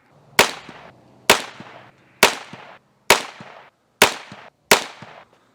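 Six .22 LR rifle shots from a Heritage 16-inch barrel fired off a bag rest, each a loud sharp crack with a short decaying tail, evenly spaced about a second apart with silence between.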